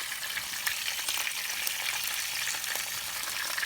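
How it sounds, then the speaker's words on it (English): Fish frying in a pan covered with a paper plate, a steady close sizzle and crackle with small spattering pops throughout. "I fried the fish, but I cover it with a paper plate because"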